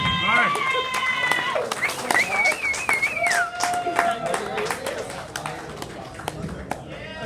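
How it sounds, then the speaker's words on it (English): A comedy club crowd applauds a first-time stand-up comedian as he comes on stage. Dense, continuous clapping runs throughout, with a whistle or whoop rising over it and crowd noise mixed in. "please give a warm, funny bone round of applause for Mark Stegman"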